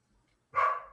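A single short dog bark rings out at close range, followed by the start of another, against an otherwise quiet background.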